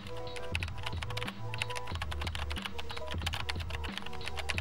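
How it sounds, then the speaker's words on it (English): Computer keyboard typed on loudly and continuously by a father, rapid close clacking keystrokes over a layered low drone and a musical background in an anime sound mix. "a father loudly typing on his keyboard ignoring his child"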